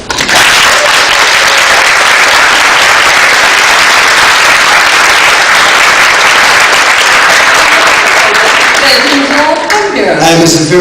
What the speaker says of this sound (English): That is a very sincere applause, very sincere.